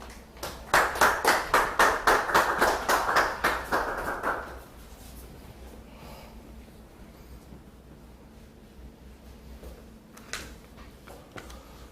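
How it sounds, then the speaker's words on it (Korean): Audience applause at a Democratic Party Seoul mayoral candidates' joint rally, welcoming a speaker to the stage: a burst of rhythmic, near-synchronized clapping for about four seconds, then a quiet hall with faint room noise. "뜨거운 박수로 맞이해 주시기 바랍니다."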